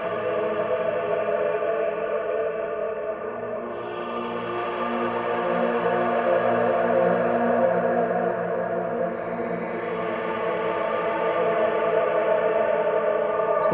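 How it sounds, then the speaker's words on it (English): A sustained wash of heavy reverb, nearly all wet, smears a guitar-like tone into a dense, even drone with no clear attacks, holding steady at moderate loudness throughout. "Make it where it's almost all reverb."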